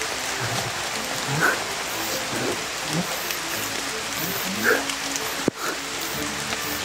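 Heavy rain pours down in a steady, hissing wash of drops on surfaces, loud and continuous throughout, with one sharp knock near the end and no talk.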